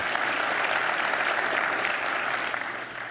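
Conference audience at a tech talk in Portland clapping together, a dense, steady burst of applause lasting a few seconds before starting to fade at the end.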